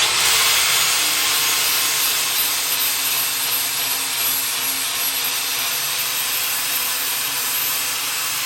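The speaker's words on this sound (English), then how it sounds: "I've been smoothing it out with a flap disc wheel" An angle grinder with a flap disc wheel smooths the ground-down steel of a homemade pallet popper in a shop, a loud continuous high-pitched grinding roar with no pauses.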